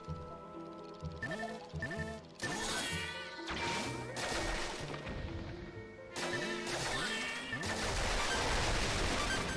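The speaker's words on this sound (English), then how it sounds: "shooting those puppets like that is very satisfying" Puppets being shot with a crossbow in the Link's Crossbow Training video game: a dense stream of loud crashing hits and bursts over layered game music, nearly continuous with brief gaps.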